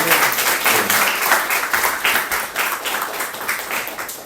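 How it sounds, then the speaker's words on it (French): Church congregation clapping for fellow members, a close, loud applause with a loosely rhythmic pulse of hands that keeps going for several seconds. "Je pense qu'on peut applaudir les frères et sœurs"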